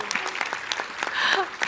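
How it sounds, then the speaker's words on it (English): Brief scattered audience applause at an academic conference address, a few quick claps lasting under two seconds with a voice partly overlapping. "Can I have a little applause?"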